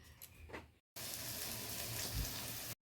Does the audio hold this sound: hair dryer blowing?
no